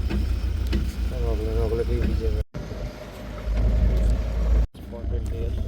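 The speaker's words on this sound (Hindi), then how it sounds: "गाड़ी आ गई, सामने गाड़ी आ रही है।" A car drives along a road through Pilibhit Tiger Reserve near an old 1925-26 bridge, a steady rumbling engine and road noise that swells as it draws closer, with someone talking over it.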